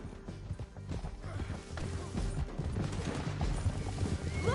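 Horses galloping through a canyon in a video game, rapid irregular hoof thuds and clatter building in intensity, mixed with other game noise and a faint voice.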